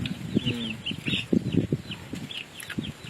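Chickens cluck in short, uneven bursts at close range, with a few sharper calls mixed in over a soft outdoor background.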